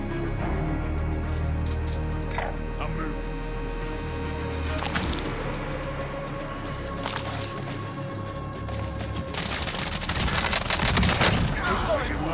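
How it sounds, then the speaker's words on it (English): Dense gunfire from a P90 and other weapons in a Call of Duty Warzone match, continuous crackling bursts and booms over a steady game soundscape, with players talking over the action and a louder burst near the end. "Shots are this way."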